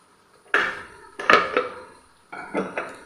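Flattened pathiri dough is lifted from a pathiri press onto a plate, giving three or four close, ringing clanks of metal and plate with short pauses between them.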